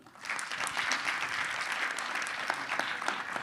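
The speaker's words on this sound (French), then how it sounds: "merci de l'applaudir" Audience applause at a round-table event on acting together for transitions, held with a university in Aix-en-Provence: steady, dense clapping from a sizable crowd that holds at an even level for several seconds.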